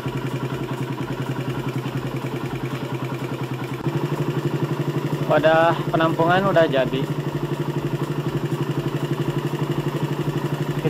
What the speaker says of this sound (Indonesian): Saya sudah manasin motor kurang lebih 5 menit ya.